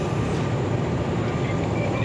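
Jayabaya passenger train standing at Bangil station during its normal stop, a steady rumbling hum of the railcars with low station ambience.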